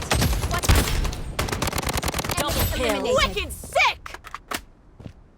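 Gunfire in the mobile shooter Blood Strike, a dense stretch of rapid shots crackling over game noise, then scattered single cracks tapering off, with a voice speaking now and then.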